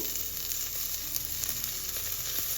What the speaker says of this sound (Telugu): ఈ పచ్చిమిర్చిని ఇలాగా 2-3 నిమిషాలు మనం ఇలా ఆయిల్లో ఫ్రై చేసుకోవాలి